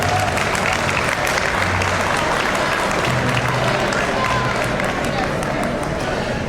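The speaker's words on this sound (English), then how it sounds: "how about one last round of applause for the Estancia Jazz Band" Audience applause at a school district breakfast for a student jazz band, a dense, loud, continuous roar of clapping from a large room, with crowd noise mixed in throughout.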